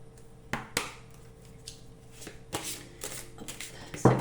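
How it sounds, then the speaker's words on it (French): Oracle cards are shuffled by hand up close, a series of quick papery riffles and flicks at irregular intervals, fairly soft, with no voices. "ce que je vous propose, c'est de mélanger les cartes"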